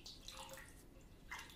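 Warm water splashed from a bowl onto a face before a shave, two short wet splashes separated by a pause, close and fairly quiet with no talking.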